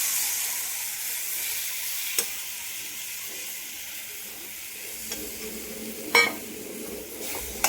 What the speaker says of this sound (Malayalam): നമ്മുടെ മുട്ടയും കൂടെ അങ്ങ് ചേർത്ത് ഇളക്കി ചിക്കി എടുക്കാം